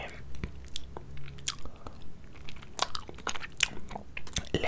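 Close-up chewing of gelatin for ASMR, with a run of moist bites, squelches and small crunchy clicks spaced irregularly.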